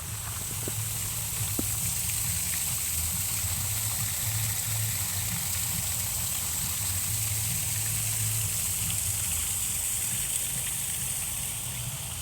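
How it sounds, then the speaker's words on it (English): Steady rushing water from a waterfall in a park near Manhasset, New York, a continuous broadband roar heard close by and alone, with a low rumble underneath throughout. "let's take a little look at this waterfall"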